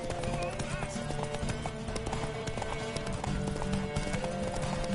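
Steady clip-clop of horse hooves trotting, close and rhythmic, over a busy background with some speech.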